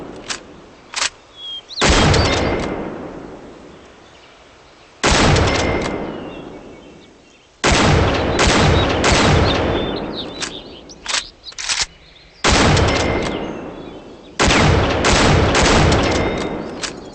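Rifle shots in the hunting video game Cabela's Big Game Hunter 2012, several loud single cracks each followed by a long decaying echo, separated by gaps and faint small clicks.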